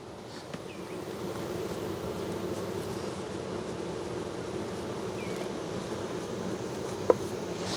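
Honey bees buzz steadily around hive frames being pulled for honey extraction on a hot day, a dense, continuous low hum with faint outdoor air behind it and a single sharp click near the end.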